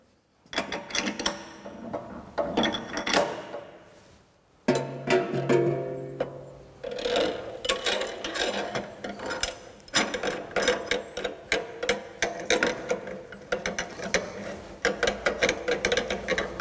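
A cutting tool holder is tightened into a machine spindle, a string of close metallic ratcheting clicks and mechanical clatter in bursts, with a brief pause partway through.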